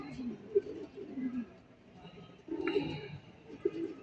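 Pigeons cooing in soft low bursts at a summer training spot in Santa Rosa, Laguna, while someone talks nearby.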